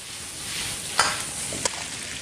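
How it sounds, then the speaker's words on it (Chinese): Cured pork sausage, ribs and sauced pork are stir-fried with aromatics in a wok, a close hiss of frying with two sharp clinks of the utensil against the metal. "把小料也全部倒进去，一起翻炒匀净。"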